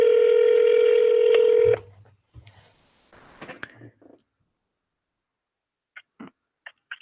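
A steady telephone tone cuts off, followed by a few quiet clicks and short, faint beeps of a number being dialed.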